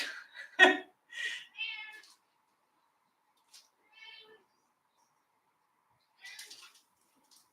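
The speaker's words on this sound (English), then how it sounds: "Did anybody just hear the cat scream in the background?" A few short, high-pitched cat cries, the first loudest and the later ones fainter, separated by long stretches of silence.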